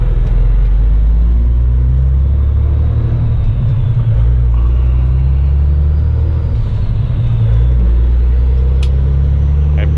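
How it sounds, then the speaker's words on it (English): A semi truck's diesel engine rumbles steadily while the driver clutches in and shifts down toward second gear, a low continuous drone with slight rises and dips in engine pitch and no talking. "Now I'm pushing my clutch in and rolling down to where I can put it into second."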